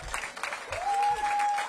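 Audience applause at a library ribbon-cutting ceremony, a short burst of clapping from a gathered crowd, joined partway through by a steady high tone that rings over it.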